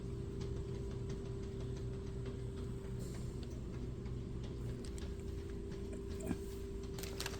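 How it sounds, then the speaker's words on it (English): Faint, irregular scratching and scraping of a cat at a door, soft and somewhat distant over a steady low background hum. "My cat's scratching at my door. That's the strange noise you hear."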